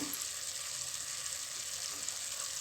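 Chili powder and coriander powder fry in hot oil in a pan for sambar, making a steady, close hiss that holds at an even level with no talking.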